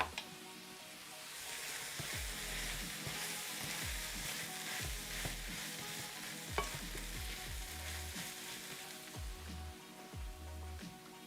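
Aji de gallina, a Peruvian creamy chicken stew, sizzles in a pot while a spoon stirs it, giving a continuous bubbling crackle with repeated low scraping knocks against the pot, close and without talk.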